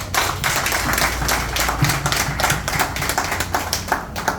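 Audience at a Grand-Lomé gathering of the UNATROT tour claps for a newly chosen president, Sénat, with uneven, fairly close handclaps under a steady low hum.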